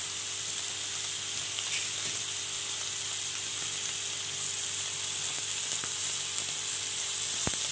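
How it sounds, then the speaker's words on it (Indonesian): Steady, loud sizzling of water spinach stir-frying in a hot pan until slightly wilted, with occasional light scrapes and taps of a utensil stirring, no voices. "Tinggal kalian oseng-oseng deh sampai kangkungnya sedikit layu"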